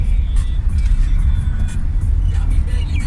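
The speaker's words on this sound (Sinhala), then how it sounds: "වාහනයක් තියෙනවා." A road vehicle passes near the Kalu Ganga dam in Sri Lanka, its heavy low engine rumble steady and fairly loud for the whole stretch, with faint higher chirps above.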